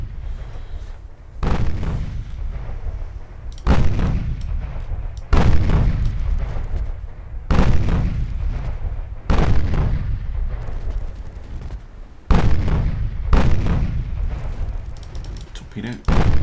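Warship main guns fire in Ultimate Admiral Dreadnoughts, a series of about seven heavy booming salvos every couple of seconds, each with a long rumbling decay that overlaps the next.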